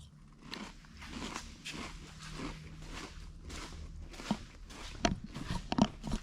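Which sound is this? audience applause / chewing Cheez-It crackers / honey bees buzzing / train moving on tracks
chewing Cheez-It crackers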